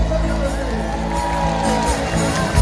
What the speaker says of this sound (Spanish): aplauso para ustedes.